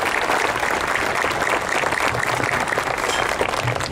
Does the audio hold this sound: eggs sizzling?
no